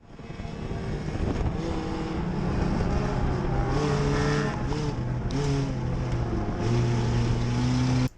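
Mini stock race cars roar through turn 3 on the opening lap of the mini stock nationals at Castro Raceway, a dense, continuous engine drone with shifting pitches as several cars pass, loud and close, with no talk.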